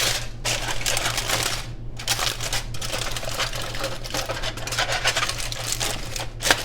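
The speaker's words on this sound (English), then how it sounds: "And then we take the foil" Aluminium foil is crinkled and folded by hand into a small holder for garlic, producing dense, close crackling bursts separated by brief pauses, over a low steady hum.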